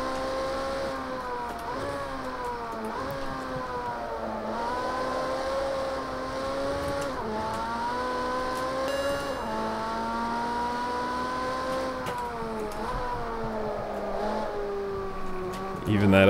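A Ferrari race car's engine in Project CARS 2 revs and drones continuously, pitch climbing and dropping with repeated gear changes through the run, loud and steady with a brief surge at the end.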